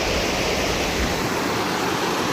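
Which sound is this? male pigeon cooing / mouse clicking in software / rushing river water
rushing river water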